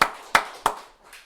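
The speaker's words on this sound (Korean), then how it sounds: "우리 하나님께 영광의 박수 올려줍시다" Church congregation applauding during a Sunday worship service, three bursts of claps a few tenths of a second apart, each quickly fading, with a softer fourth near the end.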